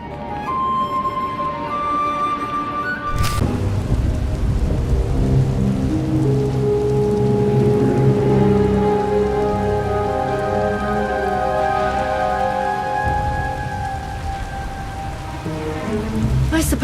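Heavy rain pours steadily and loudly in a Star Wars: The Old Republic thunderstorm scene, a dense hiss that starts abruptly and continues throughout, with sustained musical tones layered over it and no clear thunderclaps.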